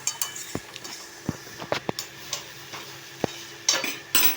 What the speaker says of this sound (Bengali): আমি নুন দিয়ে দিলাম, নুন দিয়ে ভালো করে নাড়িয়ে নেব।